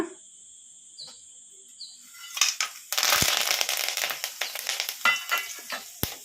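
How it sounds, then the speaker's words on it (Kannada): Spices tossed into hot oil for tempering in a kadai burst into a loud, close sizzle after a quiet start, crackling and popping in uneven spurts that fade and flare. "ನಾವು ತಗೊಂಡಿರೋ ಮಸಾಲೆಗಳೆಲ್ಲ ಒಗ್ಗರಣೆಗೆ ಹಾಕ್ಕೊಂಬಿಡೋಣ."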